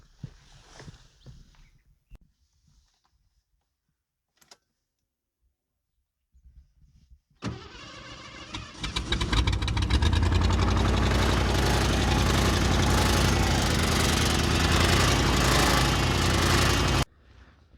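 A 1986 Mercury Grand Marquis Colony Park station wagon's engine cranks briefly after near silence, then catches and runs loudly and steadily at close range for about ten seconds before cutting off abruptly.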